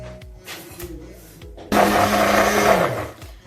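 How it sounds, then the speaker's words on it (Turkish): A hand blender whips eggs until foamy for a cocoa cake batter: after some quieter clatter and shuffling, the motor starts abruptly with a loud, steady whir lasting over a second before winding down. "köpürene kadar ben bir el blenderiyle bunu güzelce bir çıkmak istiyorum"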